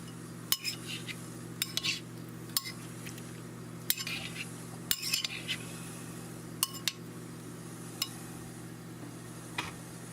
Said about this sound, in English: Give it a few more stirs.